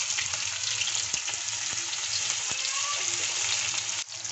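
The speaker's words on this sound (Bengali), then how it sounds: "এখন আমি গরম তেলের মধ্যে ফোড়ন দিয়ে দিচ্ছি জিরে, তেজপাতা, দারচিনি। দিয়ে দিচ্ছি পেঁয়াজ কুচি" Cumin seeds, bay leaf, cinnamon and chopped onion sizzle steadily in hot oil in a Bengali fig curry, a dense continuous frying hiss with a few soft clicks, close and loud throughout with a brief dip near the end.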